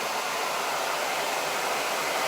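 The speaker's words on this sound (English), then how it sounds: "This hairdryer is an absolute beast." A powerful hairdryer blasts hot air over freshly applied chalk mineral paint, a loud, unbroken roaring hiss heard close up and alone.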